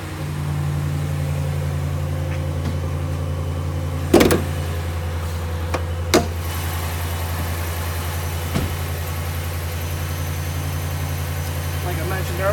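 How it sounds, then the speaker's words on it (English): A 2017 Ram 1500 Laramie pickup's 5.7-litre HEMI V8 idles with a deep, steady rumble, punctuated by a few sharp clunks and knocks. "We're gonna go ahead and fire it up and give you a look at the engine."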